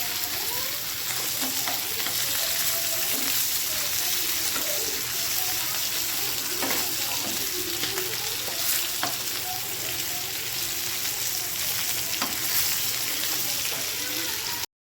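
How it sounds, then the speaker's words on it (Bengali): Fish fries in a pan with onion, a steady dense sizzle and crackle of hot oil that runs evenly throughout, close and unbroken, with occasional stirring and no talk. "মাছটা ভাজা হয়ে গেছে, একদম কত সুন্দর কালার এসছে"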